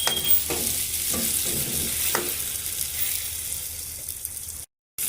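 Curry leaves frying in hot oil for potato curry, a loud, dense, close sizzle with a few stirring scrapes early on, then a brief dropout near the end.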